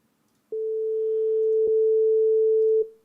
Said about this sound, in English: let's start off with a sine wave